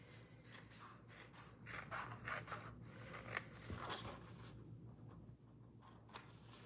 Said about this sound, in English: my template shows me that I need to cut out this little piece and that little piece